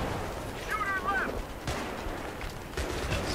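Rifle fire in Battlefield 3 co-op play, a few sharp shots spaced through a busy in-game soundscape, moderately loud amid the background noise.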